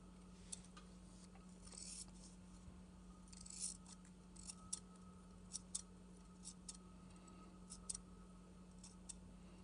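Scissors trimming the ends of a handmade tassel, a few faint, sparse snips and clicks over a quiet room hum.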